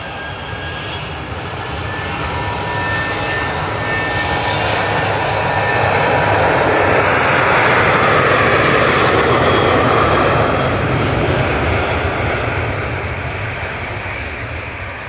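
An airplane flying past at Manchester Airport, a loud broad jet roar that swells gradually to a peak midway and then slowly fades, with no voices.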